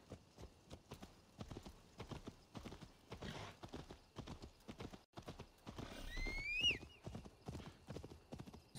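Steady rhythmic hoofbeats clip-clop at a walking pace in the video game Assassin's Creed Valhalla, with a brief horse whinny near the end, quiet and evenly spaced.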